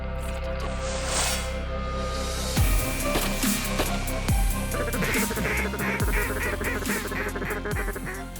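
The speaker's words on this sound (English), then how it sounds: "It's about time for the birds to really come in. There's flocks in the air." Wild ducks and geese honk and quack from flocks flying over Saskatchewan prairie potholes on a waterfowl hunting morning, a steady layered chorus of calls throughout with some nearer, louder calls after the first few seconds.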